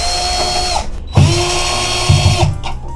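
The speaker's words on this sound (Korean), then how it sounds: "이쪽에 보이시는 나사를, 가이드 나사를 풀어주고 그래픽카드 나사를 풀어줄 거예요." A power screwdriver unscrews the guide and graphics card screws from a computer case, with short whirring bursts of the motor under a steady hum, close and fairly loud.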